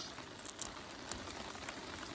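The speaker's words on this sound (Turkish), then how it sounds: "Bu arada yağmurumuz halen devam ediyor." Steady outdoor rain patters continuously at a low, even level, with a few brighter drip-like taps standing out here and there.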